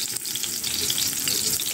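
Purple onions frying in a pan, a steady crackling sizzle with bright spattering pops, close and continuous with no voices.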